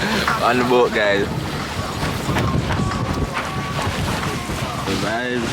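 A catamaran at sea off Santorini gives a constant rushing of wind, water and engine. Voices talk over it near the start and the end.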